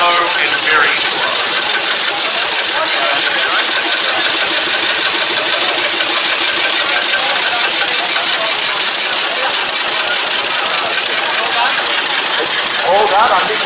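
Engine running steadily with a belt-driven mechanism whizzing, a dense continuous mechanical whir and rattle that holds loud and unchanging throughout, with no pauses.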